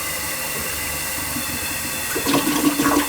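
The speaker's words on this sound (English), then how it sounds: "The next time you flush it, it won't flush." A toilet in a rental property that flushes weakly is flushed, a steady close rush of water that swells and gurgles toward the end, with no talking.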